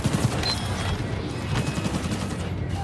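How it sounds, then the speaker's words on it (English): Enemy gunfire in Cyberpunk 2077, bursts of shots crackling over a steady rumble of driving, moderately loud with no talk. "Wait, they were shooting at me."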